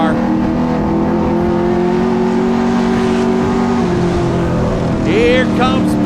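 Stock cars in a Super Street race at Wiscasset Speedway roar around the oval, engines droning loudly and steadily with cars passing close, while a commentator talks throughout.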